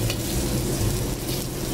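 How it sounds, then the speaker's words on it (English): Scallops sear in vegetable oil in a hot wok, a steady loud sizzle with scraping stir noise running throughout the short stretch, no voices. "And then I put scallops in first."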